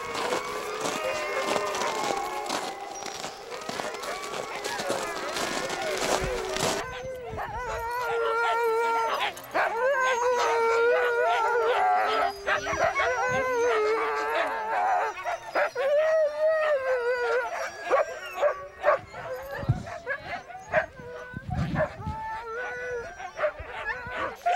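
A pack of Siberian huskies at a training kennel in Canada howls and yips together, a dense chorus of overlapping wavering howls with whimpers, loud and continuous throughout.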